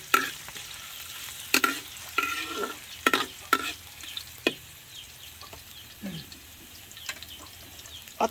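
Onions and vegetables stirred in a hot frying pan during outdoor farm cooking, a steady soft sizzle broken by sharp scrapes and clatters of the spatula, close up and without talking.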